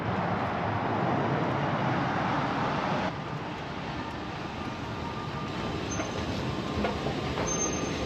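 Trains at a railway station in North Rhine-Westphalia, Germany, a continuous broad rumble of rolling stock with an abrupt drop in level partway through and faint high squeals.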